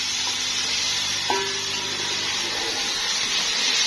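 Carrots and other vegetables browning in a hot frying pan for chicken and vegetable fried rice, giving a steady close sizzle with one brief clink partway through.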